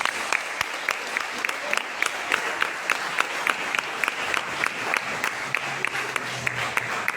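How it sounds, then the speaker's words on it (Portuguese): A church congregation at a family worship service claps together in a steady, evenly spaced rhythm, about two claps per second, over a soft room murmur. "Você pode aplaudir ao Senhor?"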